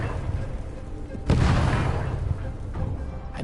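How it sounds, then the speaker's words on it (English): A cannon in the action game Stories: The Path of Destinies fires a single heavy boom partway through, rising sharply over a low rumbling background and then slowly fading. "Forgot about these stupid cannon things."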